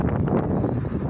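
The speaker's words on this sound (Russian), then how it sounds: "Какой сильный ветер" Strong wind buffets the microphone outdoors in hot weather, a loud continuous low rumble with gusty fluctuations throughout the short moment and no voices.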